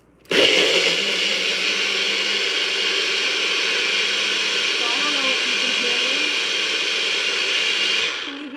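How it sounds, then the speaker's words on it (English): A loud, steady blender motor whirring and roaring continuously for about eight seconds while making a strawberry drink, then cutting off abruptly. "I'm gonna blend now."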